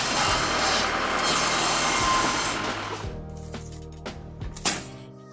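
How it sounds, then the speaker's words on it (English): An automatic homemade firewood processing machine cuts logs with two high-speed cutting discs, a loud dense grinding saw roar that fades after three seconds into a humming motor with a few sharp knocks. "The logs are transported up an inclined slope and passed through two high-speed cutting discs, where they are cut into three pieces of firewood."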